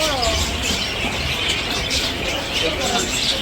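Pet birds at a market chirping and twittering in a busy, continuous chorus close by, with people talking throughout.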